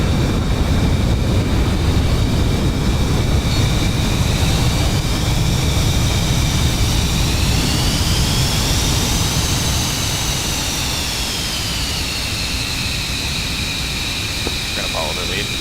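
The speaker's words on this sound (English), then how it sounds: "Afterburner takeoff." An F-16C jet in an afterburner takeoff in the DCS flight simulator, a loud, sustained engine roar with a rising and bending whine throughout, with talk faintly mixed in.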